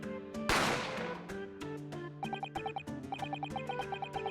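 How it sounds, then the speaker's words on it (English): A single sharp gunshot sound effect from The Great Ace Attorney Chronicles bursts out loudly and decays, followed by tonal game music with plucked, rhythmic notes. "Gunshot rang out, so I hurried out."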